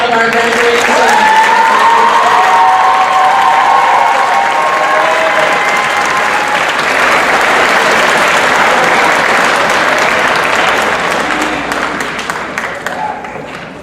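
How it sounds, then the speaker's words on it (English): Sustained audience applause with some cheering fills a school concert hall, honoring graduating seniors at a spring pops wind ensemble concert; steady loud clapping throughout, briefly overlapped early by a voice, then tapering off near the end. "let's give one more round of applause for all of our graduating seniors"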